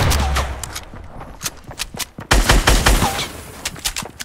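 Cover fire in Fortnite: bursts of gunshots popping in quick clusters, close and loud, with a heavier volley in the second half and faint voices underneath.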